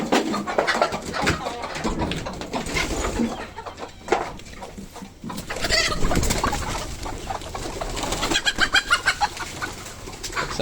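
Domestic desi chickens on a poultry farm cluck and cackle close by, with overlapping calls throughout and a burst of rapid rhythmic clucking toward the end.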